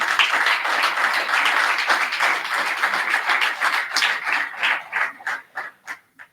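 An audience at a business conference claps, first in a dense, steady wave of applause, then thinning into scattered individual claps that fade out toward the end.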